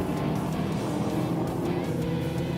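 Racing cars, an MG Magnet among them, roar along a circuit in a steady, dense engine drone that holds loud and unbroken throughout, with no gaps between passes.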